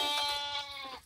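Goats bleating in a farm pen while eating guava, a single drawn-out bleat that is close and clear, then fading out.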